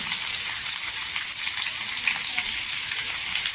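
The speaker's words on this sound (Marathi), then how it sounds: "त्याच्यामध्ये लसूण टाकलेली आहे लसूण छान गोल्डन कलर झाला पाहिजे" Garlic frying in hot oil for a dal tempering, a steady broad crackling sizzle held close and even throughout, with no voices over it.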